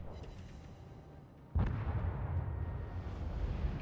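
World of Warships battleship guns firing, likely from the Japanese hybrid battleship Ise: a sudden loud deep boom that cuts in over a low ambient rumble, then a sustained roaring rumble.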